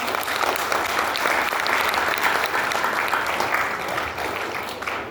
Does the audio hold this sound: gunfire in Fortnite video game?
no